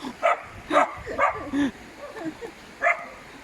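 A dog barks in a few sharp bursts, fairly close, with short pauses between them and a last bark after a longer gap.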